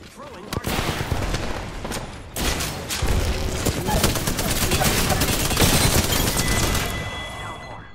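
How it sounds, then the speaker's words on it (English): Rapid bursts of gunfire from the Apex Legends battle royale game, a dense, loud volley of shots and impacts that sharpens into crisp individual cracks and continues almost without pause before fading at the end. "They're firing on me."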